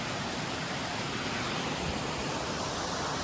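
Cox Hollow Waterfall at Governor Dodge State Park, fed from Cox Hollow Lake, gives off a continuous broadband rush of falling water, loud, close and unchanging throughout, with no voices.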